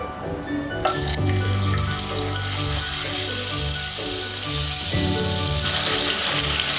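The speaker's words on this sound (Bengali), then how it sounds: "ঘিটা মেল্ট হয়ে গেলে এর মধ্যে দেব আমি যে টমেটোটা আমি পেস্ট করে রেখেছিলাম" Tomato paste sizzles in melted ghee in a pan while cooking a chhana kofta curry. A loud, steady frying hiss runs throughout with a tonal background beneath it.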